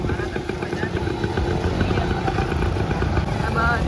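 Motorcycle ride along a crowded pilgrimage road, with a steady engine drone and clatter running throughout, loud and close, under mixed crowd noise and talk.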